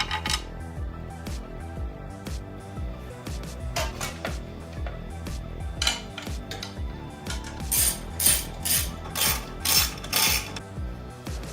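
Mechanical clicks and ratcheting as tools tighten bolts on a lightweight seat for a supercharged land speed motorcycle, with irregular metallic taps and bursts of bright ratchet clatter, close and moderately loud throughout.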